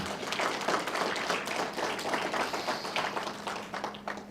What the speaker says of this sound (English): One more round of applause for you.